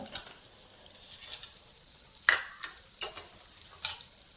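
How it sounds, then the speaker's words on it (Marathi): Cumin powder and a pinch of asafoetida crackle and sizzle in hot oil, a steady soft hiss with a few sharper spitting bursts, close and fairly quiet with no talking. "तेल तापलेलं आहे आपलं त्याच्यात जिरं पावडर टाकली"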